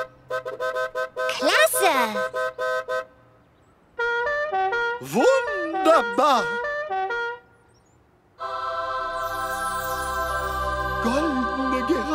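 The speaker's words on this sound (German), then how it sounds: "Okay, Busse, lasst eure Hupen hören." Cartoon buses honk their horns in turns, bright tuneful toots in several short bursts separated by pauses, ending in a longer, sustained chorus of horn tones; a voice cheers briefly between them.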